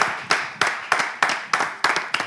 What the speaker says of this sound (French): on applaudit quand même Sania pour ce jeu